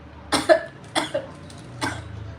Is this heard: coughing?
yes